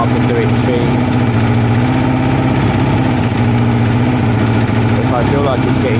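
A Kawasaki ZL600 motorcycle engine idles steadily as the exhaust warms up, a close, constant low rumble with even pulses throughout, with a few faint incidental clicks and a brief rattle near the end.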